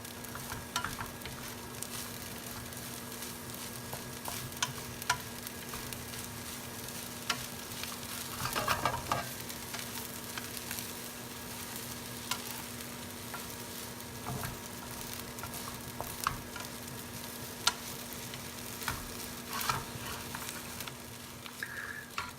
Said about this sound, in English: I'm gonna add a little bit oils. The oil is gonna bring out the flavor and the fragrance